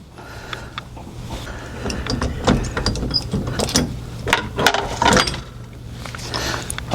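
An old Jeep steering wheel being pulled off with a harmonic balancer-style puller: close metallic clicks, clanks and ratcheting scrapes in irregular bursts over a low steady hum, with no talking.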